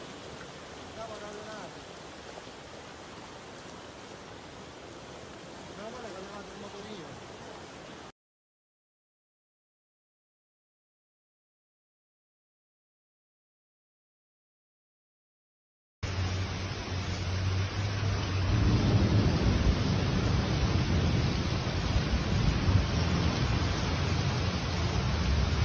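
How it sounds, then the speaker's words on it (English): A violent hailstorm strikes Rome with rain, a dense loud roar of pelting hail and rain that drops out into silence partway through, then returns even heavier with a deep rumbling low end. "Rome was thrown into chaos as a sudden violent hailstorm struck the city"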